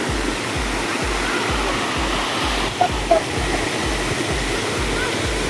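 A strong river current surges past close by, a dense continuous roar of churning water, with a steady low rhythmic throb underneath and a couple of brief faint knocks midway.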